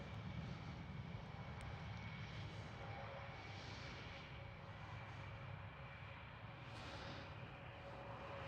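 A KLM Cityhopper Embraer E175 airliner at Schiphol Airport. Its jet engines make a faint, distant, steady rumble that holds throughout with slight swells.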